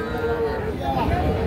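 A young calf at a rural cattle market gives a sustained, close, moderately loud moo, with crowd murmur and other livestock noise behind it.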